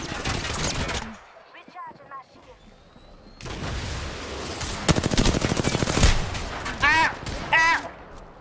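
Gunfire in the shooter game Apex Legends, with rapid automatic bursts and sharp shots building toward the end. Players talk excitedly over and between the shooting.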